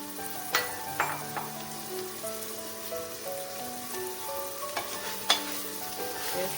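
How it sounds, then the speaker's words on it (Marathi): Mixed moong, toor and masoor dal sautés in a pan for masala khichdi, with a soft continuous sizzle, scattered stir clicks and faint tonal hum, no speech. "परतून घेऊया त्याला आपण."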